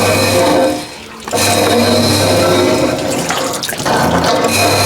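Loud, steady running water rinses caustic-stripped paint off a piece, close up, with one brief dip around the one-second mark and a rough, splashing texture throughout.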